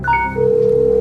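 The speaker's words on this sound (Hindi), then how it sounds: "घनश्याम जी को फोन लगाया जाए फिर से।" A telephone call is placed on a quiz show, with brief dialing beeps followed by a steady held tone, clear and close with no talk.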